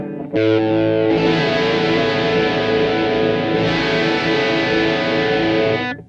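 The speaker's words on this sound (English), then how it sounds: "Let's put a little chorus on there with my other chorus pedal." An electric guitar through a chorus pedal rings out sustained, shimmering chords with a warbling chorus effect and some grit, played loudly and alone without any voices.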